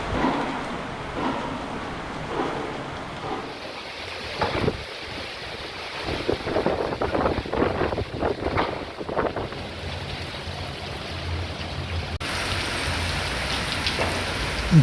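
Heavy rain pours down during Cyclone Remal in Kolkata, a steady hiss of drops on surfaces with gusty wind rushing through, intensifying in the middle with dense, close spattering.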